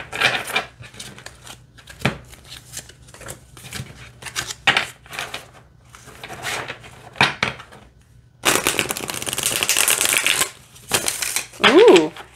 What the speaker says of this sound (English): let's go ahead and see how these shuffle